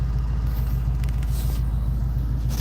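A 360 FE V8 idles steadily in a vehicle fitted with a 1950 Oldsmobile Rocket hood ornament, giving a close, constant low rumble with strong pulsing bass and no speech.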